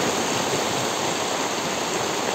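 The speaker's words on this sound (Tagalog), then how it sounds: "Malakas pa talaga yung baha niya." Loud, steady rushing of floodwater during Typhoon Carina, a dense broadband roar like a stream or waterfall that holds unbroken and close throughout, with no speech.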